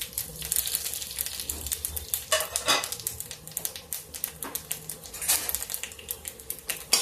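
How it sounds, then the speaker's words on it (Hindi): Panch phoron whole spices hit hot oil in a pan and crackle and pop, a fast irregular patter of small sharp spits and ticks over a steady sizzle, close and moderately loud. "सबसे पहले मैं पचफोरन डालूंगी।"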